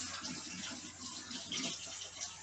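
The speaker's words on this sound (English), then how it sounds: "I'm probably going to rinse some of this off" Water runs steadily from a tap as shea butter lotion is rinsed off hands, a continuous close splashing hiss with no talking.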